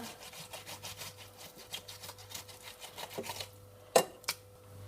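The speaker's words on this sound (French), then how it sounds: "C'est parti pour la séance de râpage." Soft, repeated rasping strokes of ripe tomatoes being grated, steady and rhythmic, followed by a couple of sharp clinks near the end.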